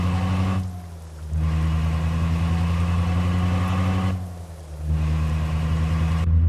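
A truck engine from an engine sound mod in Euro Truck Simulator 2 drones steadily, with two brief dips and swells as it shifts and pulls again.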